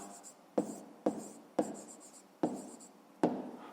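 A math solution is written by hand on paper, giving soft scratching pen strokes in five short, evenly spaced bursts, each starting with a light tap, faint and close with no speech.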